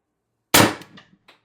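A TR50 HPA airgun with no restrictor in the handle fires a 12.7mm ball bearing, giving one sharp, loud close crack followed by a short decaying ring and a faint later tick.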